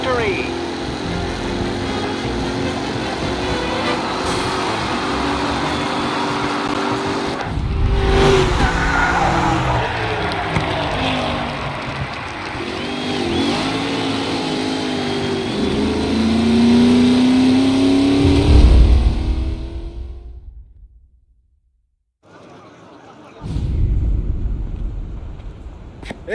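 Race cars accelerating and skidding during a race in the video game Mafia Definitive Edition: loud roaring engines, revs rising and falling, and tire squeals, a rising pitch sweep near the end, a brief gap, then engine noise resumes under commentator talk.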